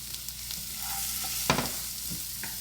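Onions sizzle and fry in hot oil in a pan for a Puerto Rican beef patty filling, a steady crackling hiss with a sharper burst midway, heard alone at moderate level.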